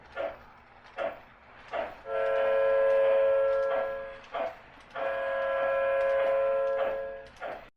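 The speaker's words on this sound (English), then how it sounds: "The Polar Express then let out a loud blast from its whistle and sped away." A loud, sustained train whistle sounds twice, surrounded by rhythmic clacking bursts of a train moving nearby.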